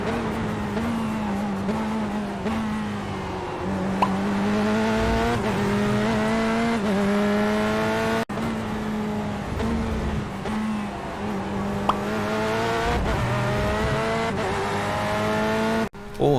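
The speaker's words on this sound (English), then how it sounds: "listen closely to your engine revs and challenge yourself to keep the engine tone as high as you can" A race car's engine holds a high, sustained tone through a slow corner, its pitch rising and dipping slightly as revs are held up, close and loud, with occasional brief clicks from gear changes.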